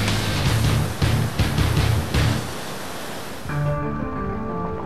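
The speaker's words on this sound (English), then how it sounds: "You're caught in a cauldron, one of the toughest stretches of Class 5 whitewater in the country." Class 5 whitewater rapids in the Crystal River Gorge near Marble, Colorado, a loud, dense roar of churning water that surges in pulses, then drops back under a faint musical tone near the end.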